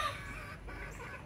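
A molting rooster gives a brief, soft cluck close by, over low barnyard background noise.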